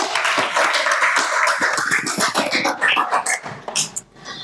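A burst of lively clapping from a group of schoolchildren, dense and rapid, thinning out toward the end.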